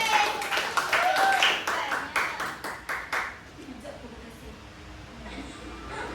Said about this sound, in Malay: Okey, tepukan untuk diri sendiri.